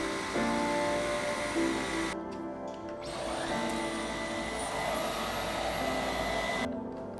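A Dyson V12 Detect Slim cordless vacuum cleaner runs with a steady motor whine while cleaning a sofa with a soft-surface attachment, the pitch shifting slightly as it moves, close and continuous with brief dips.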